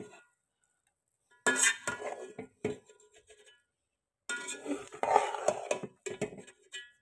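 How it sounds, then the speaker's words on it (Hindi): Lid coming off a pot of beef biryani after resting on dum, then a spoon clinking and scraping as the rice is mixed, in short bursts with quiet gaps, close and without talking. "अब हम खोल लेते हैं दम को मिक्स कर देते हैं इसको"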